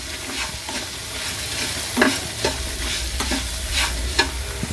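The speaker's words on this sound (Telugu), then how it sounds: "మంచిగా కలుపుకోవాలి" Flour stirred together with water in a bowl for sweet kesari puri dough, a continuous scraping swish with repeated short sharp knocks of a spoon against the bowl, close and fairly loud, no voices.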